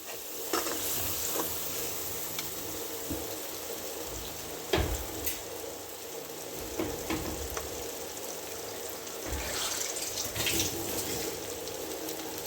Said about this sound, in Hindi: इसमें थोड़ा सा पानी डालने लगी ताकि मसाला ना जले।